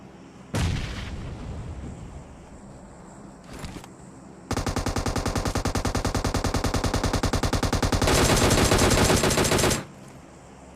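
In an Erangel solo ranked match of PUBG, an M249 light machine gun lets off an early shot, then a long, loud sustained automatic burst of rapid rounds lasting several seconds before stopping abruptly.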